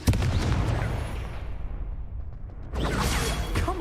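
A Confringo spell blast from the Hogwarts Legacy video game: a loud explosive burst with a whooshing tail, then a second burst of crackling impact noise close up, with no talk.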